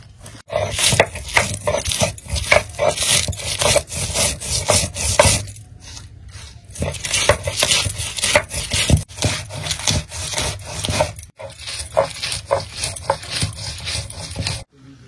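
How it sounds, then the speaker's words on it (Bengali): Chilies being ground into a spice paste for steamed hilsa, a coarse rhythmic rubbing and rasping of stone on stone, close and loud, in quick repeated strokes with a brief pause midway. "সব মশলা বাটা হয়ে গেছে, এবার লঙ্কাটা বেটে নেবো।"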